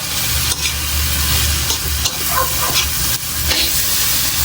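Egg and ampalaya (bitter gourd) fry loudly in a pan, with a steady close sizzle broken by scraping stirs that come every second or so, and no voices.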